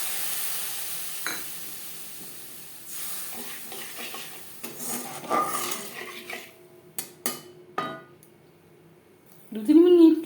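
Masala paste added to fried onions in a pan over a low gas flame while cooking doi bhindi, with a soft frying sizzle, scraping spoon-on-pan stirs and metallic clanks rising in bursts, ending in a louder clatter.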